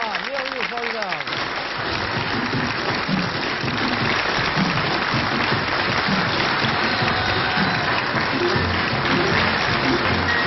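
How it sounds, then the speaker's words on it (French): A studio audience at a French television variety show claps loudly and continuously, a thick wall of applause welcoming the performers, with a voice briefly heard over it at the start. "je vous propose de l'accueillir et de l'applaudir très fort"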